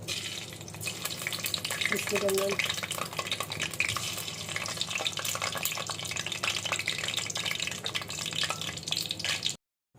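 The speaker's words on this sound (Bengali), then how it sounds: "আমার সবগুলো কোপ্তা গোল্ডেন ব্রাউন করে ভেজে নিয়েছি" Kofta balls deep-fry in hot oil over high heat, giving a steady, dense sizzle with occasional stirring clatter before the sound cuts off abruptly.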